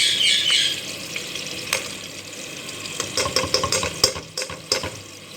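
Ginger garlic paste frying in hot oil in a pan, a steady sizzle that fades slightly, then broken by a run of sharp spoon-scraping and stirring clicks.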